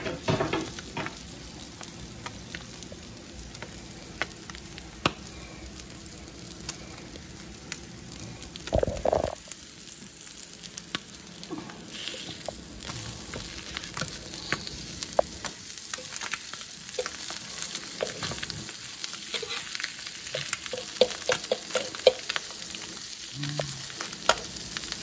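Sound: eggs and sausages frying in a pan

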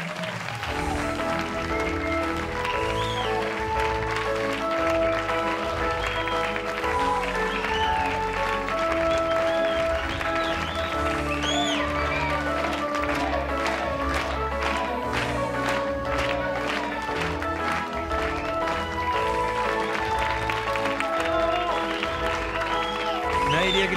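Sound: audience applause welcoming a TV couple

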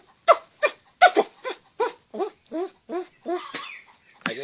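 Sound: voice imitating a squirrel

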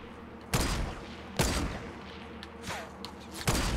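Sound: gunfire in video game Fortnite

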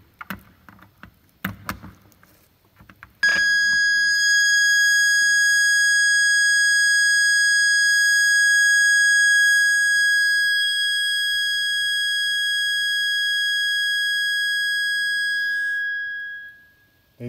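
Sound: modulated signal tone from lab speakers

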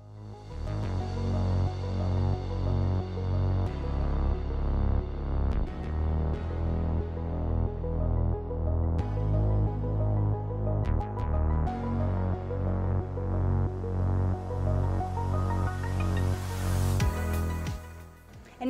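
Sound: sewing machine sewing back and forth

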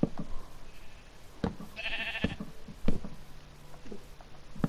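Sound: sheep bleating in the video game Minecraft

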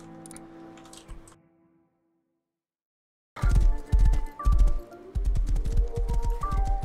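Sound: horse hooves clip-clopping in video game

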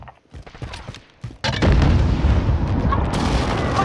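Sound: precision airstrike explosions in Call of Duty Modern Warfare video game

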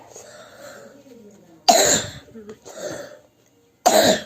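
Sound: coughing

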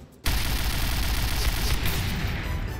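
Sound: bomb exploding nearby in video game Point Blank

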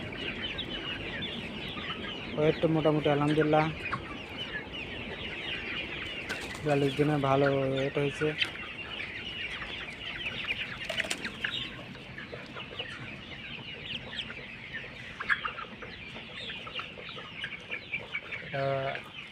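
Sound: flock of colour bird chickens on a poultry farm

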